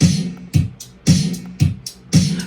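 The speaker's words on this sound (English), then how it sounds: "And here's your hi-hat." A GarageBand drum pattern with a click-like 808-style hi-hat plays over punchy snare hits, repeating in a steady loop about every half second, loud and close with no talking.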